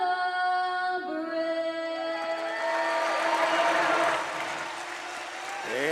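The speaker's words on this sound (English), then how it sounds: "you can hear the crowd roaring after that nice rendition of the national anthem" Indoor soccer crowd roaring and cheering after the national anthem at a Milwaukee Wave versus St Louis Ambush game, swelling from the anthem's final sung notes into a loud sustained roar.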